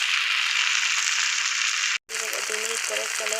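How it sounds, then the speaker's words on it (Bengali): Okra and egg fry in a pan with a loud, steady close-up sizzle; after a brief cut, the sizzle continues under a person talking. "2 মিনিট করে ভাজাটা নামিয়ে নেব"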